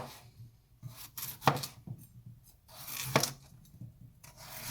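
A knife slices through an unpeeled potato on a cutting board, cutting it into discs and then strips, with irregular close chops and scraping rubs.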